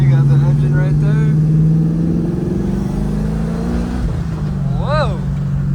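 A Porsche 914 fitted with a mid-mounted LS3 V8 accelerates hard, its loud, deep engine note rising in pitch through the gears, with voices talking over the roar.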